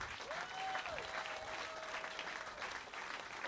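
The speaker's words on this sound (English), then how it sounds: "Give a round of applause for" Steady audience applause fills the room, a dense wash of clapping with a faint sustained tone gliding over it.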